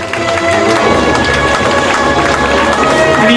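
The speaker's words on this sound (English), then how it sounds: "The sound of applause helps you go deeper." A stage hypnosis show audience claps and cheers loudly, a thick wash of crowd noise with some shouts mixed in, steady and close for the whole stretch.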